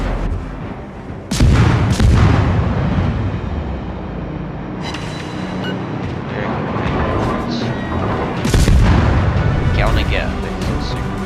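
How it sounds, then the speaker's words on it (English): Torpedoes striking an enemy ship in the naval battle game World of Warships: heavy booming blasts and rumbling explosions, loud and close, recurring in bursts over a dense roar of battle sounds, with a voice talking underneath. "let's wait for these torpedoes to hit him"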